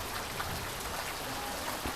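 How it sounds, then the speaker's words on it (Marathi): Heavy rain pours down in a dense, constant hiss of drops striking surfaces, loud and unbroken throughout. "इकडे पूर्ण गोंधळ उडाला पावसाने जोरदार पाऊस जोरदार"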